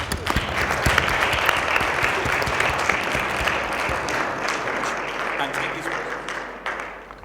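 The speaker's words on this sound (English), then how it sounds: "Please give them a round of applause." Audience at a music technology conference talk breaks into sustained, dense applause, a loud steady wash of many hands clapping that holds evenly before tapering off at the end.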